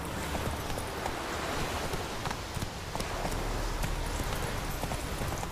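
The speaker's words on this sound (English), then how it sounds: "Go on, Roach, let's have a ride." Horse hooves of a ridden horse in The Witcher 3 video game, a dense run of soft clip-clop footfalls under a constant wash of ambient game noise, moderately near and fairly quiet.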